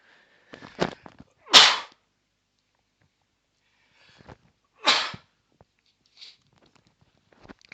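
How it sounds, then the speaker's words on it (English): A single sharp sneeze bursts out close by, followed by a second smaller sneeze-like burst and faint clicks in otherwise quiet surroundings. "Sorry about that. Just had a sneeze."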